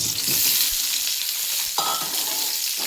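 Cut eggplant pieces hit hot oil and fry with a bright, continuous hiss and crackle, close and steady, with a few soft stirring clinks partway through.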